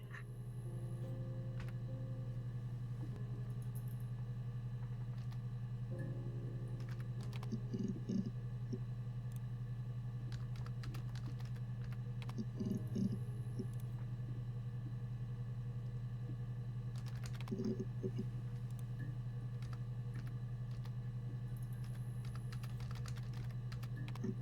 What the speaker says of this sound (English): I'm also pretty slow at typing.